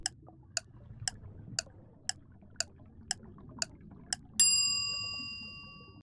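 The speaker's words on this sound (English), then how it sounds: "Then I will add a clock ticking sound effect to the loading bar. Finally, I will add a bell sound effect for the correct answer." Quiz sound effects play alone: a steady clock tick repeats about twice per second for over four seconds, then a bright bell ding rings out loud and decays slowly.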